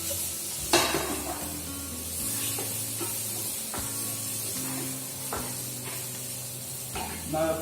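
Vegetables with fried rosemary being stirred in a pan for vegetable au gratin, soft sizzling under repeated spoon scrapes and knocks, with a low steady kitchen hum beneath.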